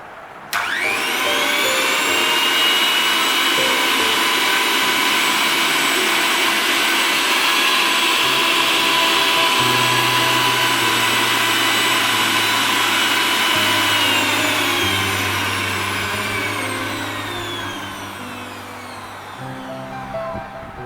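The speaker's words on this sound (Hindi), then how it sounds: "इस Sujata super mix 3 jar mixer grinder का नॉइज लेवल कितना है यह आप सुन सकते हैं।" Sujata Supermix 3-jar mixer grinder with a 900-watt motor running alone, a loud steady high-pitched motor whine with a whirring blade roar, holding constant for most of the run before slowly winding down near the end.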